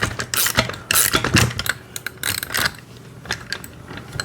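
A ratchet wrench snugs the 14 and 13 mm axle nuts on a kids' battery-powered ride-on motorcycle, giving close, uneven bursts of clicking and metallic rattling with short pauses between strokes.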